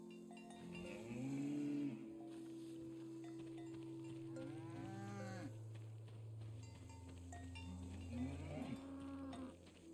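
A cow in the video game Una Carta al Futuro moos several times, long low drawn-out calls rising and falling over a quiet ambient backdrop, fairly close and clear.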